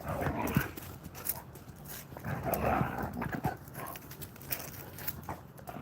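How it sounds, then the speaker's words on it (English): Dogs greet someone arriving back, with close, excited panting, sniffing and scattered whimpers, loudness surging and easing in bursts over several seconds. "I just came back and got greeted by the dogs."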